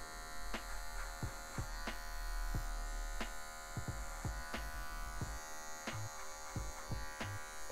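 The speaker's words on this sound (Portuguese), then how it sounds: "Vou usar o Combo Pente mais máquina, tá? E vou vir tirando esse cabelinho que tá maior." Electric hair clipper with a comb attachment trimming afro hair during a medium fade, a steady close buzz broken by short sharp strokes and clicks as it passes through the hair.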